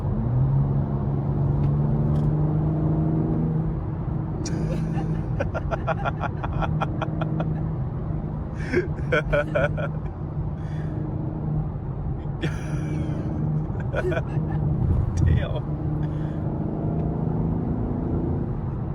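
A BMW M4 engine hums and rumbles steadily from inside the car while being driven, with low continuous drone and a few ticking and clicking interior sounds over it.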